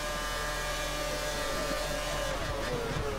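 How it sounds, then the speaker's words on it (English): A Formula 1 car in the Formula 1 2013 video game, with engine whine droning steadily at the Catalunya track as a car leaves the pit lane, loud and continuous with no talking. "there's a car coming out of the pit lane"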